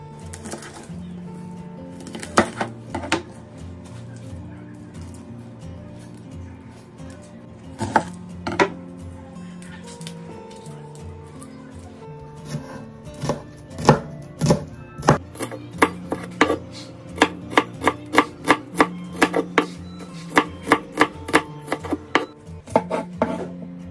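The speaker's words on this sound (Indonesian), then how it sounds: "bawang merahnya mau saya iris aja ya teman-teman" Shallots being sliced with a knife on a board: after a few scattered cuts, a long run of rapid, evenly spaced chopping taps, close and crisp, with pigeons cooing in the background.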